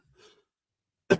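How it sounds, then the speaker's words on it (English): A single short, sharp cough from a person with a bad cough, fairly close and loud, following a brief faint breathy sound in an otherwise quiet room. "Apologies, I have a bad cough."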